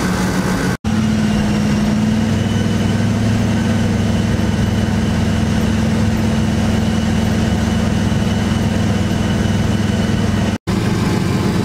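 Engine of an old Ford car that had not been driven in four years, heard on a test drive as a loud, steady low drone with road rumble, continuous throughout, with no talking.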